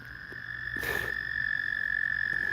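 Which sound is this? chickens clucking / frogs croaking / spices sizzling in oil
frogs croaking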